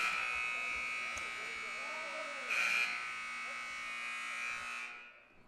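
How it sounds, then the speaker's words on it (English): A long, loud malfunctioning electronic buzzer horn at a men's basketball game drones steadily, buzzing tone holding for about five seconds before cutting off, with faint speech underneath. "a little bit of a buzzer malfunction, as you probably heard in the background"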